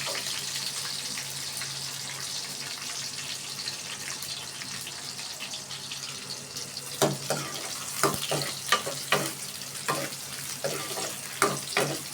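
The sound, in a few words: stirring frying cabbage in a pan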